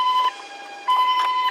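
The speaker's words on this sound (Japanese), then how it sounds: "サイレンをチェック。" A toy ambulance minicar gives off a thin electronic siren in two short bursts of a steady high tone, separated by a lower, quieter pause, close and alone.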